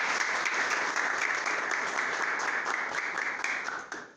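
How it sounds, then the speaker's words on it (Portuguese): A studio audience applauds a guest musician on a religious-festival programme, a dense, steady wash of many hands clapping that continues evenly before tapering off at the very end. "palmas para o convidado Obadias"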